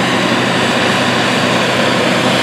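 A 620 hp Case IH Quadtrac tractor pulling a 9-shank Case IH 2500 inline ripper roars continuously at close range, a deep steady rumble with a broad grinding wash of noise and no voices.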